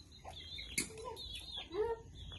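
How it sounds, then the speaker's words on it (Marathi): In a village yard, chickens cluck and squawk in short bursts, with a quick flutter of wings; the flock sounds fairly close but soft overall against a quiet background. "किती कोंबडी आहेत."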